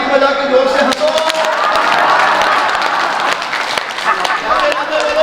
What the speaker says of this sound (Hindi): एक बार ताली बजा के जोर से हंसो।